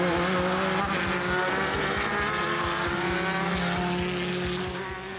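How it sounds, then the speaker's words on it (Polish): An Audi RS5 DTM race car driving on a Spanish circuit, its engine roaring loudly and continuously with rapid gear-shift pulses and a rising, falling pitch, tapering slightly at the end. "Na hiszpańskim torze jeździł także Robin Rogalski w Audi RS5 DTM"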